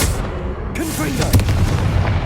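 Explosive blasting spell bursts in Hogwarts Legacy gameplay during a duel, a loud boom with crackling burst tail over dense game noise, with brief voice-like tones mixed in.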